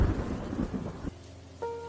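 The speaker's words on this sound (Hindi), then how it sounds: "बिजली कड़कती तो पल भर के लिए पूरे गांव में रोशनी छा जाती" Thunder cracks and rumbles through a heavy village rainstorm, with a booming low crash followed by a rolling, fading rumble.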